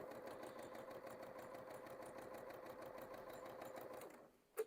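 Sewing machine stitching at a steady quick pace, a rapid even rattle of the needle that runs continuously for about four seconds and then stops, with a small click at the end.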